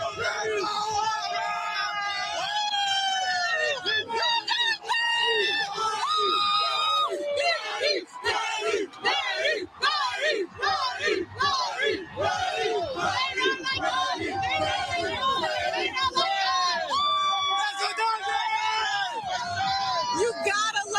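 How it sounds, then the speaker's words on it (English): A dense, loud crowd cheers, screams and yells without pause at the Dodgers championship parade, with many overlapping shouting voices close by. "You gotta love the crowds out here."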